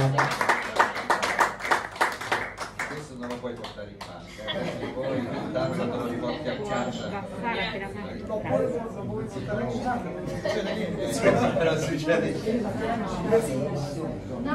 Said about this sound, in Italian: È finito l'applauso?